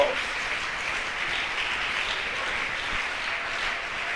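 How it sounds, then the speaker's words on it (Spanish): Steady applause from a church congregation at a Christian worship service, filling the space evenly and continuously without a break. "Dale ese aplauso fuerte a la gloria de Dios."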